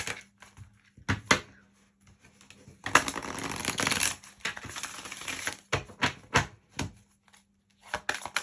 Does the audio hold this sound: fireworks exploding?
no